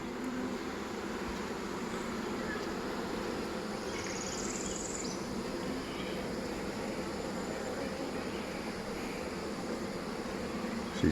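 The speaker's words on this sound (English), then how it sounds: "There's a lot of bees." A steady, dense insect drone of honey bees buzzing around a hive box in Florida, continuous and fairly close, with a soft hum filling the whole stretch and no talking.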